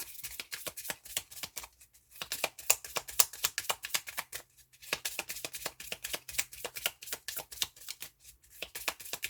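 Oracle cards are cut and shuffled by hand, a rapid run of crisp riffling flicks in short bursts with brief pauses between, close and fairly quiet with no talking.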